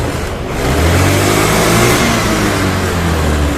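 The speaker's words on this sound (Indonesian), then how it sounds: "Oke, motornya langsung bisa hidup." A Honda Vario 110 scooter engine revs up steadily and holds a loud, sustained rise in pitch close by, with no talk over it.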